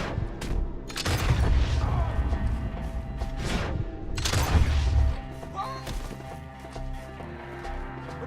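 Video game gunfire in Red Dead Redemption 2: bursts of shots and heavy booms come in two loud clusters, then quieter scattered pops, with faint voices underneath.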